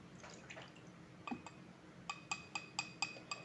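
Melted candle wax with added oils being stirred in a glass container, a series of light, ringing clinks from the utensil against the glass, close and fairly quiet with a steady rhythm toward the end.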